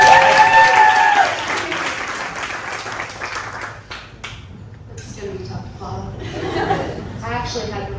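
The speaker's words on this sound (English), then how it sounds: "Let's go ahead and welcome with a big round of applause." Wedding guests applaud as the maid of honor is welcomed, with crowd clapping loud at first and then thinning into scattered claps and light laughter. Voices and murmured talk come through as the applause fades.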